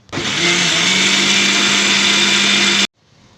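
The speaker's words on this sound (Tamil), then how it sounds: "இப்போ மல்லிப்பொடி போட்டு அரைக்க போகிறேன்" A mixer grinder runs loud and steady for nearly three seconds, grinding masala with coconut and coriander powder, then cuts off abruptly into near silence.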